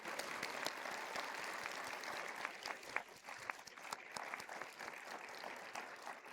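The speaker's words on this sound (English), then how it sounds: "Please join me in a round of applause and appreciation." An audience at an AWP literary panel of Palestinian writers gives sustained applause for the panelists, a dense, steady wash of many hands clapping at moderate distance with no talking.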